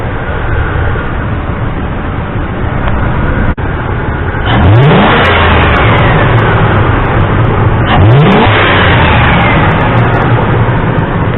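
Ford F150 with a 4.6 or 5.4 two-valve engine and a Spectre performance intake, idling then revving hard twice, each blip rising sharply and loud up close before settling back.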